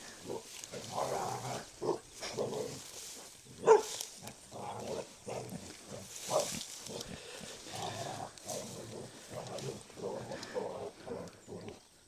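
Pigs on grass and weeds grunt and snuffle in a steady, rhythmic series of low calls, fairly close, with a louder squeal partway through.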